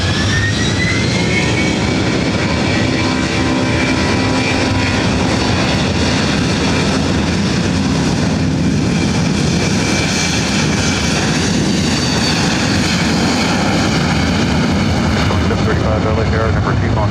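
A Delta jet airliner takes off from runway 24 right at LAX, its engines roaring loudly and steadily throughout, with a rising whine of turbine tones.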